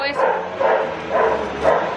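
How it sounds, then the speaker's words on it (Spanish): A small dog yips and barks in a few short bursts at a crayfish on a home kitchen floor, fairly close, mixed in with someone talking and moving around. "No le hace nada, solo le ladra."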